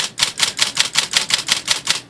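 A Smith Corona electric portable typewriter types a steady run of about eleven evenly spaced, crisp key strikes close up, with no talking.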